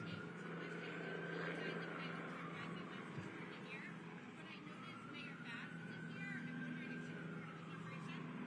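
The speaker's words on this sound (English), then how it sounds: "Whose helicopter is that?" A helicopter hovers overhead during a drug raid at MacArthur Park in Los Angeles, a steady rotor drone that slowly rises and falls in pitch, with people talking throughout over it.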